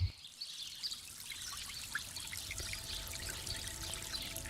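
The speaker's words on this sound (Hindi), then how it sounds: "झरने की मधुर ध्वनि" Waterfall pouring and trickling in a forest, a soft continuous splash and hiss with faint bird calls, steady and moderately distant.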